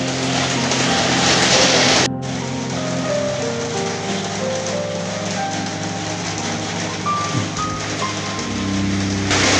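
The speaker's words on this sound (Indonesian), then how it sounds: "karena hujan lebat jadi agak mengganggu konsentrasi saya" Heavy rain pouring down steadily, a loud continuous wash of drops drumming on surfaces, with a brief cut partway through and no talking.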